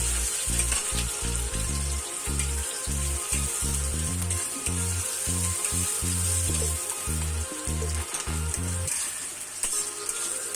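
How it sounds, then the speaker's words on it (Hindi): Onions fry in hot oil with a bay leaf in a pan, a dense continuous sizzle with a rhythmic pulsing low rumble throughout, close and fairly loud. "अब हम प्याज डाल देंगे। प्याज लाल होने तक इसे भूनते रहेंगे।"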